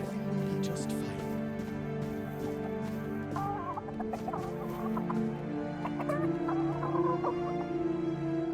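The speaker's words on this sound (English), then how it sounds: "Chickens!" Chickens clucking in the fantasy video game Tainted Grail: The Fall of Avalon, a run of close, choppy clucks and short squawks repeating over a constant tonal game ambience, with no talking over them.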